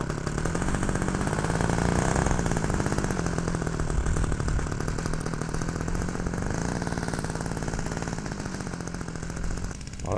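A 33 cc Evo petrol engine on a model airplane runs steadily nearby, a loud buzzing drone with a fast pulsing rhythm that holds for about ten seconds before briefly dipping at the end.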